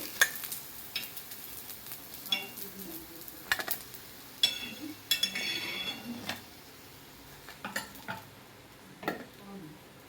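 Sweet corn veg cutlets shallow fry in a pan with a soft crackling sizzle, broken by irregular clinks and scrapes of a spatula and utensils against the pan, close and moderately quiet.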